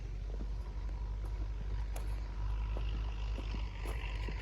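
A Massey Ferguson 285S tractor engine idles steadily in a sunflower field, a constant low rumble with faint clicks and knocks on top.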